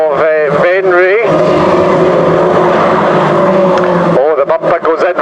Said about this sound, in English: Fast and furious stuff from H317 Killian Brocken from the Netherlands. Heads down the back straight.